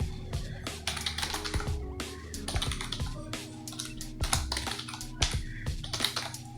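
Computer keyboard being typed on steadily, fast close clicky keystrokes in an uneven rhythm of bursts and brief pauses, with no voice over it.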